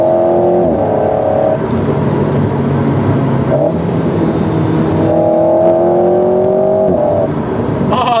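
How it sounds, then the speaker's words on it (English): An Alpine A110 Légende GT's 1.8-liter engine, mounted just behind the seats, revs up and down steadily, a loud, close, buzzing drone with rising pitch sweeps, heard from inside the car with no talking. "The engine is right behind my ears."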